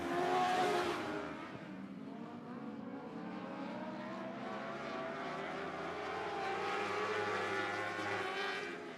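Dwarf race cars at Sunset Speedway Park roar past on the oval, a loud buzzing engine chorus that swells at the start and holds a steady, layered whine as the pack circles, with no voices.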